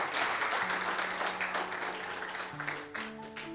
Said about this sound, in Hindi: जोरदार तालियां हारून के लिए